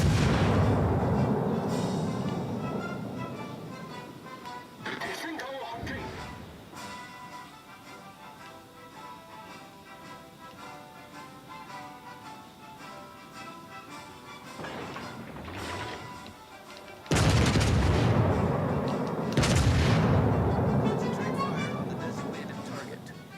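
Heavy naval gun salvos boom from the cruiser Yoshino in World of Warships: Legends, several loud blasts with rumbling tails separated by quieter stretches, and a voice talks over part of the battle.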